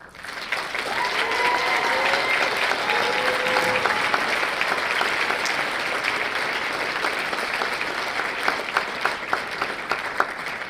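An audience at a startup accelerator demo day claps in sustained, dense applause that holds steady for about ten seconds, then thins into scattered individual claps near the end, with a few faint voices in the crowd.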